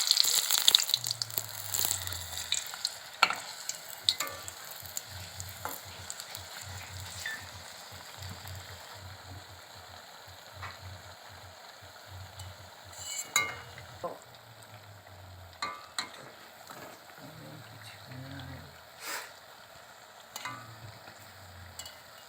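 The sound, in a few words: pakoras frying on a gas stove at medium flame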